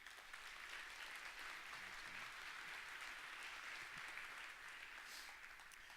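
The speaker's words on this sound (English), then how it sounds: "So please give the sponsors a round of applause" A conference audience gives a sustained round of applause for the event sponsors, dense steady clapping heard faintly, as if from a distance, with no clear voices.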